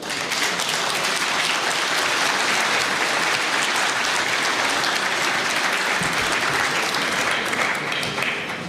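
An audience at the Munich Security Conference applauds in welcome for Secretary General Jens Stoltenberg, a dense, loud, continuous clapping that holds steady throughout and tapers slightly at the end.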